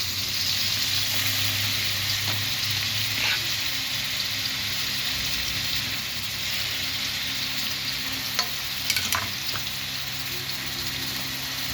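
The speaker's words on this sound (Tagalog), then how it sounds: "Ang tekniko po ito, paggisa ng bawang." Garlic sautéing in a pan for a bitter gourd dish, a steady close sizzle with faint scraping stir strokes, no voices.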